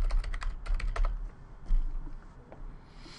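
Someone types a password on a computer keyboard, a quick close burst of clacking keystrokes that thins to a few scattered taps.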